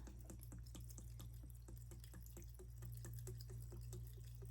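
Steady dripping of 100 proof vodka being poured over lemon balm for a tincture, a quick regular patter of drops over a constant low hum, fairly faint and close.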